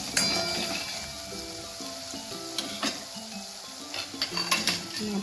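Spices sizzling in a hot pan with red chili powder, stirred with a metal spoon while preparing ridge gourd curry, with steady frying hiss and scattered scraping clinks against the pan, fairly quiet.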